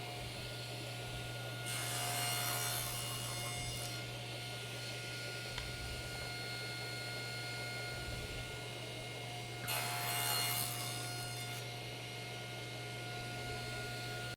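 A hand saw cuts wood miters in a quiet workshop with a steady low electrical hum, giving two separate bursts of rasping strokes a few seconds apart.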